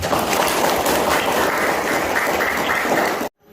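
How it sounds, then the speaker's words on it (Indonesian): A high school class bursts into applause, a dense wash of clapping from many students that continues steadily, then cuts off abruptly. "Tepuk tangan untuk kita."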